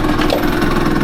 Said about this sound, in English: overall, it idles really well